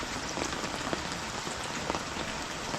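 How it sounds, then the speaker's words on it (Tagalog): Steady rain pours down in a rural provincial setting during a birthday celebration, a dense continuous hiss with scattered drop patters, close and even throughout, with no voices. "Ang ulan."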